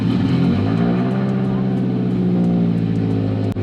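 A 400 WHP Subaru STI on E85 fuel idles and revs nearby, a loud, rumbling engine note running steadily without pause.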